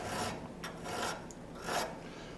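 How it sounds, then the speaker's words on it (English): Hand file rasping across steel on a forged bowie knife, working near the ricasso and handguard seat; three long, even strokes sound close and clear, each a gritty scrape, with no talking. "so just doing some file work here."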